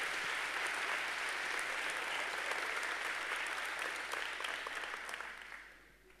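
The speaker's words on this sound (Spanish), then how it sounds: "Denle un fuerte aplauso a Jesús por esta palabra" A church congregation claps together in sustained, dense applause that holds steady before fading out toward the end.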